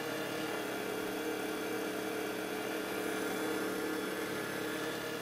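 A stand mixer runs steadily with its paddle beating batter, a continuous mid-pitched motor whir with no breaks, moderately loud and close throughout.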